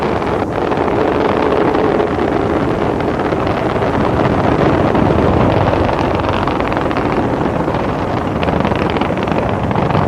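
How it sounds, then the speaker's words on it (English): Space Shuttle Columbia's engines roar during the STS-55 launch, a steady, heavy, wind-buffeted rumble that holds at full power throughout. "Engines aboard Columbia now beginning to throttle down"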